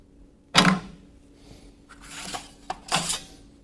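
A Magnabend MB1250 magnetic sheet-metal bender clamps and folds a piece of sheet metal, giving a sharp clack followed by a few quieter scraping clicks and a final thud, close and alone.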